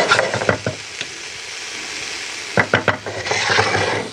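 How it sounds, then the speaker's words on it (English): Red pepper and onion sizzle in a hot pan over a woodfired setup, with sharp clanks of stirring and utensils striking the pan in bursts over a steady hiss. "and red pepper into the pan with a nice sizzle"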